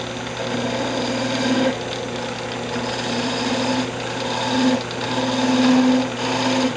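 Wood lathe turning a wooden magic wand, a steady motor hum with the workpiece vibrating and buzzing in swelling waves, close and continuous.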